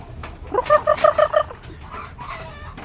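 Chickens cluck in a quick run of short, rhythmic calls while pecking at worms, close by and fairly loud, then trail off into softer background noise.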